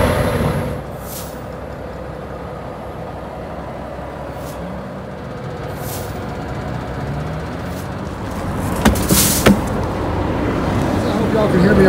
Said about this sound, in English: I hope y'all can hear me okay over this truck running.